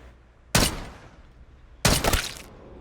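Two loud, sharp gunshots from a gun in Call of Duty Black Ops 6, spaced more than a second apart, each with a short crackling tail over quiet game ambience.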